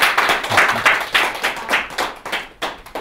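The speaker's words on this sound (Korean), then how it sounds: "그럼 엄명희 교수님 박수로 맞아주십시오." An audience applauds to welcome Professor Yung E Earm before a lecture on the heart at Seoul National University, a few seconds of steady, close clapping from a crowd with no talk over it.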